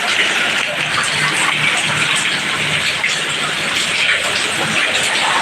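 A constant broadband hiss of heavy rain pouring down with wind in Gazipur, loud and unbroken throughout, with no pauses or clear voices.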